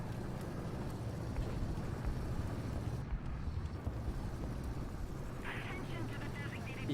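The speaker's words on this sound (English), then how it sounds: "I hear an engine over there." A distant engine in the video game War Thunder gives a low, steady rumble that runs throughout, mixed with a wind-like whoosh and faint background noise.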